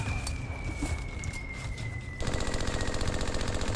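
A Nambu machine gun fires on a WWII Pacific beach-invasion battlefield in a video game, first in scattered cracks over a thin whine, then in a sustained rapid rattling burst that fills the second half.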